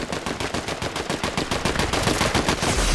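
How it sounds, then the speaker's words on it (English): Rapid gunfire in Fortnite, a fast burst of repeated shots that keeps going, loud and close, with no talking over it. "then we hear some shots, so we're going to go take care of that"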